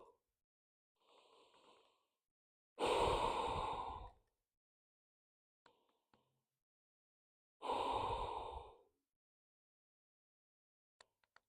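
Two long, deep exhalations during a child's pose in a postpartum core recovery session, fairly close and slow, separated by a softer breath and quiet pauses with small clicks.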